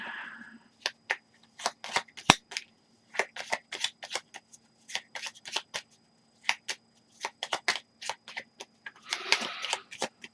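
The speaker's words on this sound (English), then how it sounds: "we shuffle all this back into the hit location deck" Cards from a board game's hit location deck are shuffled in bursts of crisp riffling and snapping clicks, with pauses between runs and a denser flurry near the end.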